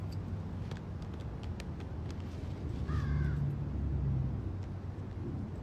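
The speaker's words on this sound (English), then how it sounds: "There's the crow." A crow caws once or twice at a distance around the middle, faint over constant outdoor traffic rumble, with no talking.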